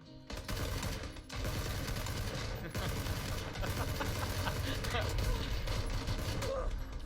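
Dense video game gunfire from a PC shooter, loud and nearly continuous bursts of rapid shots filling the whole stretch, with a voice talking over parts of it.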